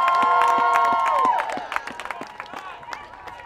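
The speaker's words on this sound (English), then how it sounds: "please give a big round of applause for your Spackenkill" A crowd at a high school girls' soccer quarter-final cheers and applauds loudly, with sustained horn-like tones at first, then scattered claps and shouts fading.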